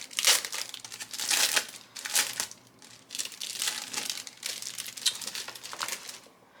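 Crinkly plastic packaging of cash budget envelopes being pulled open by hand, in close bursts of crackling and rustling with short pauses between handfuls.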